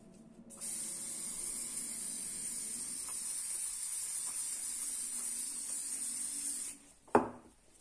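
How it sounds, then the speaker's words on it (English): Brake cleaner sprays in one steady, loud hiss onto an Opel Astra H part during a full service, running about six seconds before cutting off, followed by a sharp knock. "First I'm going to clean this with a brake clean."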